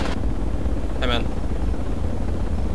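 A military helicopter in the tactical shooter Project Reality makes a steady, close rotor-and-engine drone that fills the whole clip, with a brief voice cutting in partway through.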